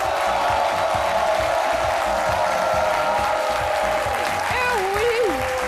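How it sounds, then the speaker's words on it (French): Loud, sustained applause from a studio audience at a television show, dense and steady throughout, with a voice talking over it toward the end. "je vous invite à applaudir très très fort pour la policière de la mode, Lynn Jabert"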